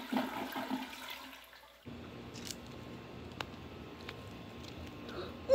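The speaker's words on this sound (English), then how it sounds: "Please don't flush the toilet without the lid closed" An airplane toilet flushes with a brief rushing gurgle, followed by a quieter watery hiss and a few faint clicks and drips.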